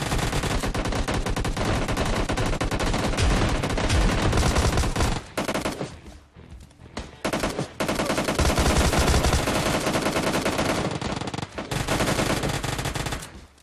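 Dense, continuous automatic gunfire in a PUBG Mobile Lite match, with an Uzi and a two-shot shotgun in play, a loud fusillade that breaks off briefly midway and then resumes in rapid bursts.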